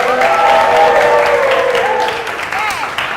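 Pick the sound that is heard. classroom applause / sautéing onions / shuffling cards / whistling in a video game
classroom applause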